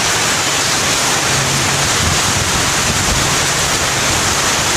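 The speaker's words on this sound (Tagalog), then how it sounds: "ang lakas na ng ulan, nababasa tayo." Heavy thunderstorm rain pours down in a dense, constant roar of hiss and splatter, loud and unbroken throughout.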